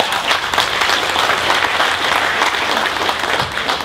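An audience at the Sebring Corvette Corral bursts into sustained applause, a dense wash of clapping hands held steady for several seconds.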